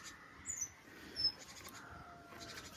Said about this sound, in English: great tits. You can hear the parents going off a bit in the hedge